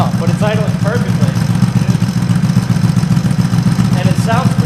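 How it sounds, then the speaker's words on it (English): A Yamaha G1 golf cart engine idles with a steady, low, throbbing putter that runs unbroken throughout, while someone talks nearby over it. "I don't know, but it's idling perfectly."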